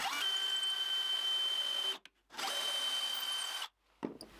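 A power drill fitted with a nail as a bit bores a pilot hole, whining loudly in two sustained bursts with a brief stop between them, then a short final spin-down and clunk.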